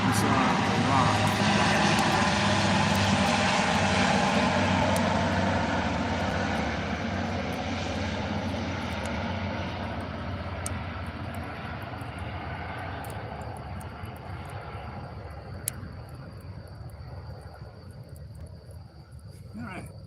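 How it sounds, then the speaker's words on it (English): A US Air Force C-130 propeller transport from Little Rock, Arkansas, flies overhead at night. Its loud, broad engine and propeller roar fills the scene, then slowly fades as it passes, with crickets chirping faintly underneath. "Compliments the United States Air Force C-130 is based in Little Rock, Arkansas"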